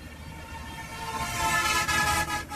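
Cars rush past on the Chittagong road beside the Meghna river bridge, a steady broadband traffic roar that swells louder midway as vehicles pass close, with no voices.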